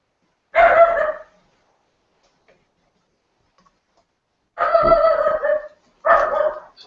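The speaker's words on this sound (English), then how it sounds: "my dogs are barking" Dogs bark indoors in three short bursts: one brief outburst, a long quiet gap, then two quick bouts of sharp barking close to the microphone.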